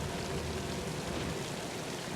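Steady rain falls by a fountain in the video game The Sinking City, a soft, even hiss of water that holds unchanged from start to end.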